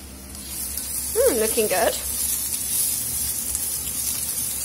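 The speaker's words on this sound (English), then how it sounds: "stir my courgettes and onions and probably take them off" Courgettes and onions hiss and sizzle steadily in a frying pan, close up, while a voice speaks briefly over the frying.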